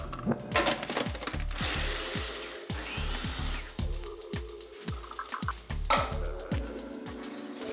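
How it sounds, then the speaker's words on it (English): A food processor chops toasted salted walnuts in a rapid rattling clatter, the hard nut pieces knocking against the bowl in dense repeated bursts that stay loud and close, with no talk. "Just pop them into your food processor."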